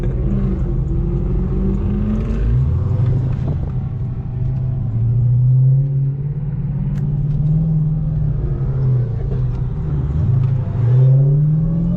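A Dodge SRT Hellcat's supercharged engine revs loudly and close, with rising and falling rumbling sweeps repeated several times and no talk.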